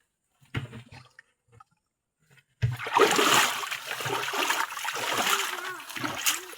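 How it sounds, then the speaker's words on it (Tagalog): Water is fetched and splashes: a few faint knocks and drips, then after a brief quiet a close, continuous burst of sloshing and splattering water that lasts several seconds. "Nagigib tayo ng tubig mga guys."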